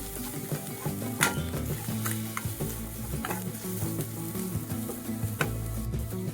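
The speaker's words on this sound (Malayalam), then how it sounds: "ഒരു 1/4 കപ്പ് തേങ്ങ ചിരവി കേട്ടോ. അപ്പോൾ അതും കൂടെ കൂടി ഇതിൻ്റെ കൂടെ ഒന്ന് മൂപ്പിച്ചെടുക്കാം." Grated coconut and spice powder roast in a pan with mushrooms, a soft sizzle under repeated scraping and stirring strokes of a spoon, with a few sharp clicks in between.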